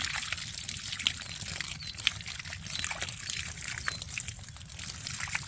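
Lots of water runs and trickles continuously over a cut on a horse's shoulder, a steady splashing wash with small irregular spatters and no talking.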